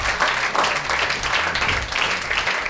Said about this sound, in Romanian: Aplauze pentru Cătălin Cioca!